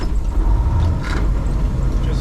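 A 2001 Western Star 4964EX truck engine rumbles low and steady as the driver downshifts, with a brief rise in engine note midway and no clear gear clunk.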